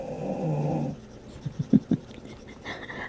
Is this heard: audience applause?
no